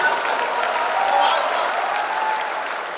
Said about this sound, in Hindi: तालियां कम रह गई आपकी।